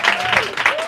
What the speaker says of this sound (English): Please join me in giving Betty and Margo a very warm welcome.